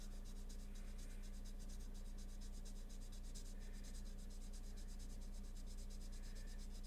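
A Shuttle Art alcohol marker is drawn across paper, making faint, continuous squeaky scratching strokes up close in a quiet room, with no talking.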